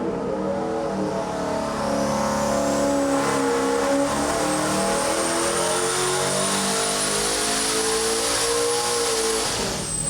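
LS V8 engine revving hard through a dyno pull, a loud rising mechanical roar with climbing harmonics and a high turbo whine sweeping upward, sustained for the whole stretch without talking.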